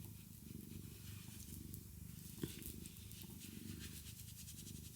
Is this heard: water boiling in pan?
no